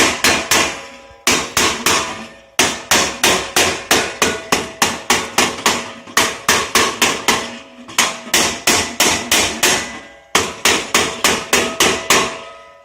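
Rapid bursts of ringing hammer blows on metal, a pot's folded seam struck against an anvil while being secured, heard up close in quick runs of about eight to ten strikes separated by brief pauses.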